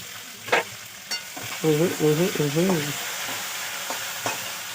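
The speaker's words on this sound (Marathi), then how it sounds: "सगळा मसाला वगैरे टाकून घ्यायचा तेलामध्ये, त्याला थोडं गरम होऊ द्यायचं, हलवून घ्यायचं" Spices sizzle in hot oil while being stirred in a pan for khichdi or upma, with soft frying hiss, a few utensil scrapes and brief clinks close by.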